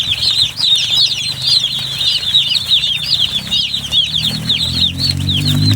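Day-old brooding chicks pecking scattered feed on newspaper, a dense chorus of high peeping close by, with soft scratching and a low hum rising toward the end.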